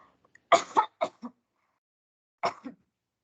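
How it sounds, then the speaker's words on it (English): A few short, close coughs sound in quick succession, then a pause before one more rough cough, with silence around them. "I'm having cough"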